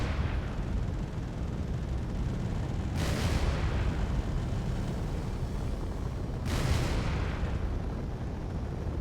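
Turret gunfire in the Space Engineers game: two heavy bursts about three seconds apart, each a sharp broadband blast that rings out over a constant loud rumbling background, with no talking.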